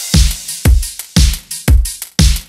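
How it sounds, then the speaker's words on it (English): Driving hi-hats layered over a punchy kick and snare in a produced beat, a steady, loud, bouncy loop of crisp metallic ticks between heavy thumps, with no voices. "Driving hi-hats"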